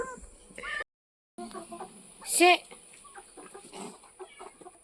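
Young chickens cluck in short bursts around a yard, close by. A louder squawk rises near the middle, with brief pauses and other background noises between the calls.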